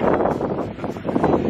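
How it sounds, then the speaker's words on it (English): Steady wind buffets the microphone in a loud, continuous rush at a beach in Hawaii, with faint rustling mixed in. "It is so windy"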